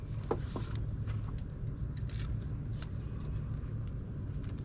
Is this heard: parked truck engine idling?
yes